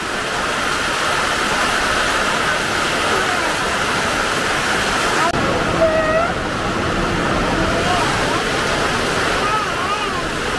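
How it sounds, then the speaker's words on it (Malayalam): Heavy rain pours down at night at a rural home in Kerala, with wind, making a dense, unbroken hiss and roar that stays loud and even throughout. "ഇപ്പോഴാണ് പെയ്യുന്നത് അടിപൊളി മഴ"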